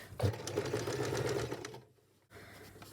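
A sewing machine runs steadily, stitching a seam through knit faux fur, its motor whirring close and loud before a brief stop and a quieter restart.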